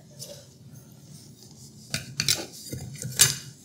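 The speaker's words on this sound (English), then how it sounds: "And the steak knives go here." Steel steak knives from a Henckels Elan set slide and clack into a knife block, a few sharp metallic clinks and scrapes close by, starting quietly and growing louder toward the end.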